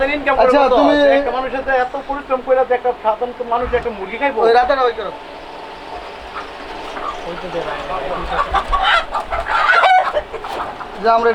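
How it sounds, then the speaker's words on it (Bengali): Native hens clucking and a native rooster calling among loud, busy market chatter, with bird sounds recurring throughout. "এটা দেশি রাতা কক কক কক"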